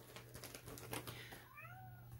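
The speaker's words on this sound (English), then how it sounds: "If you hear meowing, that would be Dale" Dale the cat meows from behind a closed hallway door, giving a short, faint, drawn-out rising call near the end, after some soft tapping sounds over a low background hum.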